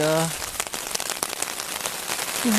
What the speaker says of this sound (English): There's a little bit of splashback from the rain too, so it looks like I'm going to have to get up and fix that. It's just getting heavier too.